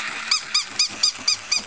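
A Jack Russell terrier stuck in an attic while chasing a toy gives six quick, evenly spaced high yelps in a steady rhythm, fairly close and clear over a low background hum.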